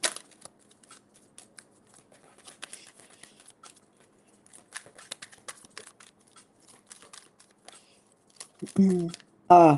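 Tarot cards are shuffled by hand in a quiet room, giving soft, irregular flicks and riffles that run through most of the stretch, before a voice speaks briefly at the end.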